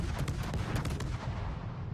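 Warship guns firing in World of Warships, a quick run of booming shots with rumbling low-end tails, loud and close, fading out over two seconds.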